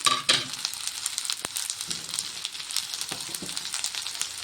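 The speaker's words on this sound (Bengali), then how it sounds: "চলো আমরা মশলাগুলোকে সুন্দর করে ফ্রাই করে নিই" Spices frying in a pan for a pabda fish curry with mustard paste, a bright crackling sizzle broken by sharp spatula scrapes and taps, close and without speech.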